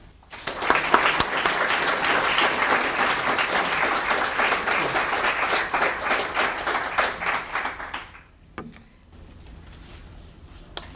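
An audience breaks into sustained, dense applause welcoming writer Lia Purpura to a reading, clapping steadily for about eight seconds before it fades out to a quiet room.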